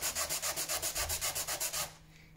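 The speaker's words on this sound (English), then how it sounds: "Not going mad with the sanding block, just making sure it's flat and down." Sanding block rubbed back and forth on wood for a W. Watson camera, about fourteen quick even rasping strokes in a steady rhythm, close and soft, then stopping.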